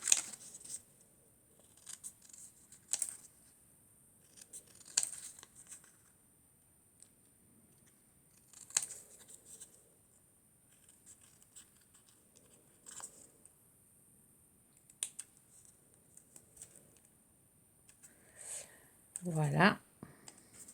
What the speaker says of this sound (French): Ensuite, je viens découper ma petite maison.